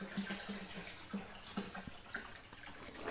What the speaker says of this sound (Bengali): দেখেন ম্যানেজার গরু চাইতে পানি দিচ্ছে